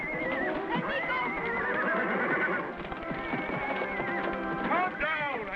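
A horse whinnies in an old western adventure series. The shrill neigh rises over dense dramatic music and agitated shouting voices, standing out most clearly near the end.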